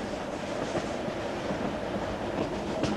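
The Geyserland Express passenger train in New Zealand rumbles past at close range, a steady loud roar of wheels and rail clatter with no voices.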